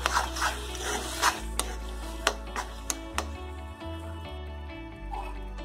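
A spoon stirs chopped coriander through a Jain-style aubergine bharta in a pan, giving soft intermittent rasping scrapes and a few sharper clicks against the pan over a steady low hum.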